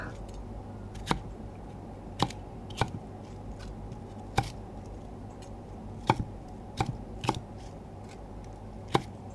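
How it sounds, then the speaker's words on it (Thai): A knife slices through firm bitter melon flesh in sharp, irregular chops against a board, with quiet pauses between strokes. "เอาเขาไปหั่นเป็นชิ้นนะคะ"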